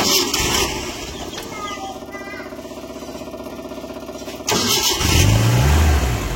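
A car engine is cranked and fires up about two-thirds of the way through, sharply louder than the steady electrical hum before it, then settles into a rough, close idle.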